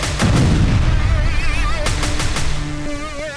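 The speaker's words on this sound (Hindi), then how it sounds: "मोर्टार और तोपखाने से बारूद बरसाते हुए एक के बाद एक गांव को कब्जा कर आगे बढ़ रही है।" Russian mortar and artillery fire around Zaporizhzhia: a heavy boom followed by several sharp blasts, loud and close, with wavering tones and a voice underneath in the later part.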